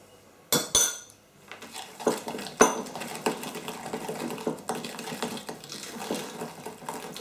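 A spoon scrapes and clinks against a bowl while mixing brandy butter, giving a rhythmic series of close taps and scrapes after a couple of sharper knocks at the start.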